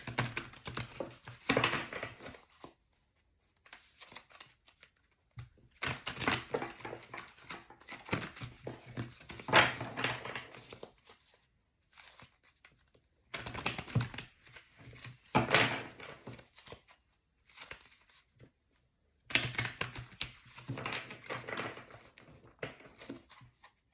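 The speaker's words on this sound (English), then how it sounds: "I'm just gonna clear the deck by doing some shuffles." A deck of tarot cards is shuffled in quiet bursts, soft riffling and crinkling runs broken by brief pauses, close by and faint, with no speech.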